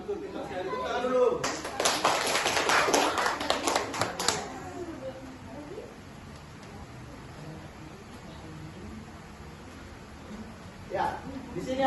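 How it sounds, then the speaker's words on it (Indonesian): Children in a classroom clap their hands together in a brief burst of about three seconds, then the room falls quiet with faint background murmur and a short voice near the end. "kita sekali tepuk tangan dulu"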